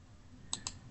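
A computer mouse gives two quick, crisp left clicks in close succession while working in an Excel spreadsheet, faint and close against a quiet room hum.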